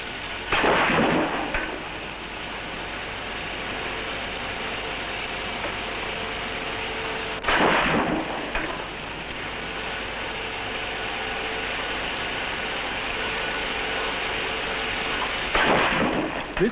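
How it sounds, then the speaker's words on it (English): An experimental gun in Siberia fires repeatedly to break up rock, sending deep, booming blasts about every seven to eight seconds, each rolling out into a long rumbling tail over constant dense background noise. "the gun is made to fire once every few seconds"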